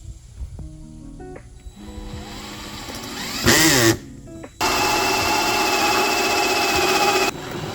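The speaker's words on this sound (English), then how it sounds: "We had to drill a 3-inch hole in the outside." A power drill cuts a 3-inch hole in the outside of a pond for a bulkhead: short whirring bursts, a brief loud rising whine, then a long steady loud grinding run that stops near the end.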